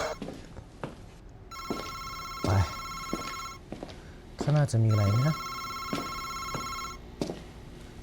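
Telephone ringing in a horror video game, a bright electronic bell in two long bursts separated by a gap, with someone talking and exclaiming over it and light clicks in the background.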